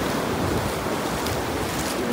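Sea waves wash continuously onto the beach at Bucana, Batangas, a steady hissing surf mixed with some wind noise, no one talking.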